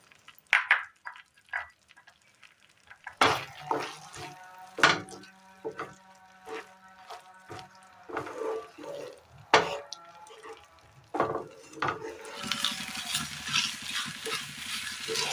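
Sharp clinks and scrapes of a utensil stirring in a pan, then a rising sizzle as chopped onions fry toward the end, close and fairly quiet.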